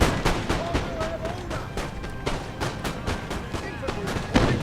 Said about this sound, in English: That guy just got shot.